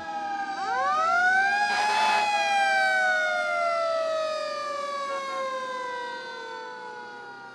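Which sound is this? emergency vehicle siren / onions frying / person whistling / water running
emergency vehicle siren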